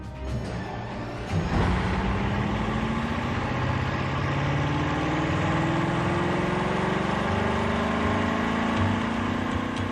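A Bugatti Chiron engine runs steadily at full throttle on a test bench, its loud, continuous roar rising slightly in pitch after a brief start, with no pauses.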